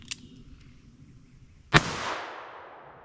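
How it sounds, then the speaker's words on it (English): A single sharp revolver shot with a .38 Special round cracks loudly at close range and leaves a decaying echo, after a faint click. "We're going to start out with a revolver using .38 Special"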